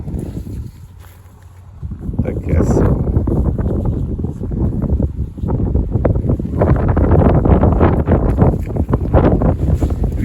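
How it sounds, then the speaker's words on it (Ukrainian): Loud wind buffets the microphone almost the whole time outdoors at a crop demonstration field, a constant rumbling roar with gusts and no clear speech. "вітер дує, вибачайте,"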